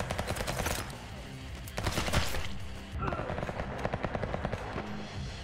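Rapid bursts of gunfire from the VR shooter Hard Bullet, with dense machine-gun-like volleys and sharp shots recurring throughout, loud and close, with some speech faintly mixed in.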